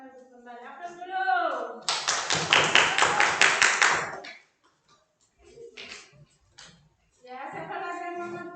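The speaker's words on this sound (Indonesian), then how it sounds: "Aplaus dulu." Students in a classroom applaud, a burst of brisk clapping from many hands lasting about two seconds, with a teacher's voice speaking before and after.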